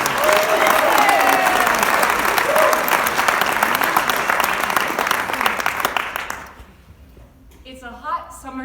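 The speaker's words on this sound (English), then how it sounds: "another big round of applause for Lily" A big round of applause from a storytelling audience, dense and steady for about six seconds before fading out, with a voice starting to speak at the end.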